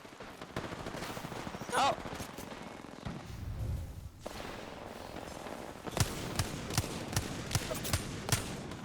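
Gunfire in a video game: a run of sharp, evenly spaced shots cracks out near the end, with earlier bursts and game noise beneath, and a player lets out a brief exclamation.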